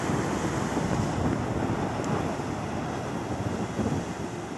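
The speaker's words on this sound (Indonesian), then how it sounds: "Ini ombaknya sangat bagus dan besar." Large ocean waves roll and crash along a beach shore, a steady broadband roar of surf with wind buffeting the microphone throughout, loud and close with no talking.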